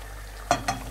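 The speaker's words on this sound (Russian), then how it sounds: "Жарится." Marinated chicken fries in a pan with a soft steady sizzle, broken by two quick scraping stirs near the end.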